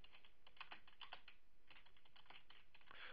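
Rapid typing on a computer keyboard into a simple text editor, with quick irregular clicks in short bursts, faint and steady behind a low background hiss and no talk.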